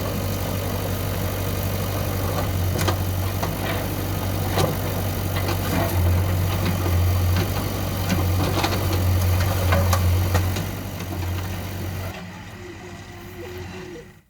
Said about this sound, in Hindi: एक बार फिर से मामा का बुलडोजर चला है।